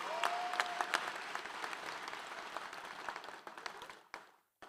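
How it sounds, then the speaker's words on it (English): Graduates at a high school graduation ceremony applaud in a large crowd, a sustained roar of clapping that fades out near the end. "Clap for yourself, you should."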